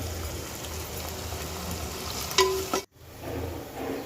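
Ginger paste frying in a pan on low heat for a liver fry, stirred with a steady broadband sizzle and scraping. The sound holds close and even, then cuts out briefly near the end before the sizzle resumes.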